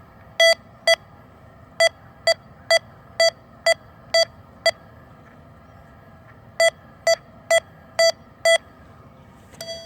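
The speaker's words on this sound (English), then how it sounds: "Turbo mode is more of a digital sound." A Nexus Standard MkII metal detector in turbo mode gives sharp, digital beeps, first a run of about ten evenly spaced pulses, then a pause, then six more at the same pace, over a faint steady background hum.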